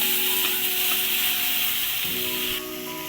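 Red chili sizzling as it fries in oil in a pan for an Assamese catfish curry, a steady bright hiss running close and loud throughout with faint stirring scrapes.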